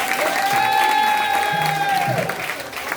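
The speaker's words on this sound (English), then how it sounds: "give it another round of applause for our dancers and our awesome drummers" An audience applauds dancers and drummers at a Gullah Geechee Nation gathering, a steady wash of clapping with a long, loud sustained tone and its overtones ringing above it for about two seconds before trailing off.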